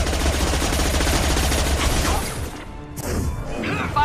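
Gunfire in a Mass Effect 2 firefight, a loud rapid burst of shots with crashing impacts that breaks off briefly and then resumes.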